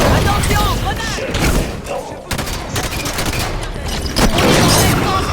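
Heavy gunfire in the video game Halo 5: Guardians during a legendary campaign battle, with dense bursts of automatic fire, thumps and explosions layered together and characters talking over the combat.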